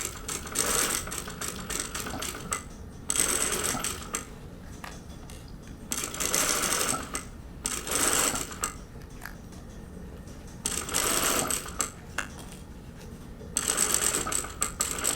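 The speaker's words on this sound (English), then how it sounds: "Now you sew as far as you can go." A sewing machine stitches an invisible zipper into fabric, running in several steady whirring stretches of a second or two each, separated by brief near-silent stops.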